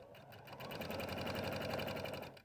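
A sewing machine runs in one steady, rapid burst, stitching fabric rectangles together into rows for a pillow, its needle chattering evenly and close, with no voices.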